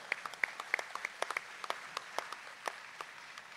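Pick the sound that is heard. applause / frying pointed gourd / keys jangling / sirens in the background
applause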